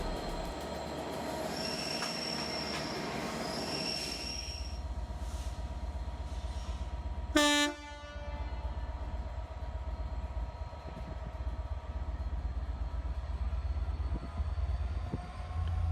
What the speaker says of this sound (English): This train features 3 standard-class British Rail Mark III passenger carriages.